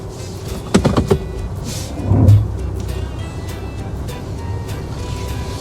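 A 2025 Alfa Romeo Tonale Italiano plug-in hybrid SUV pulls away. A few close clicks and knocks are followed by a short swell of motor and tyre noise that settles into a quiet, steady hum, with a voice briefly present.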